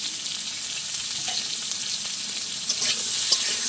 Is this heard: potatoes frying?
yes